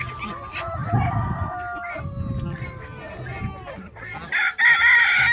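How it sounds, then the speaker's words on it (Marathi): Pure desi country chicks and breeder hens on a poultry farm cluck in short bursts, and a rooster crows loudly near the end, with a person talking underneath the birds. "प्युअर देशी गावरान कोंबडीची पिल्ला आहेत"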